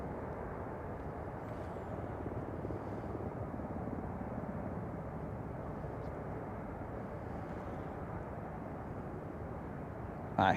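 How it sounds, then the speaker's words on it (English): A helicopter flies overhead during a bass fishing outing, producing a steady, droning whoosh that holds at an even level for the whole stretch with no talking. "I hear a chopper."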